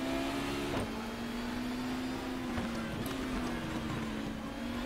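A racing car engine in the GTR 2 racing game, at Brands Hatch Indy, whines high and strained steadily throughout, loud and close, with faint clunks and rattles scattered over a constant background roar.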